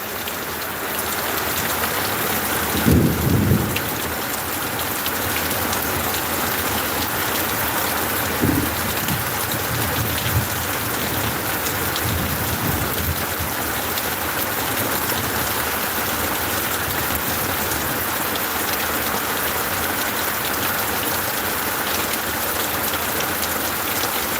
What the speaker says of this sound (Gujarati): એટલા બધા વહરાત પડે છે કે નર્યા પાણી ભરાઈ ગયા છે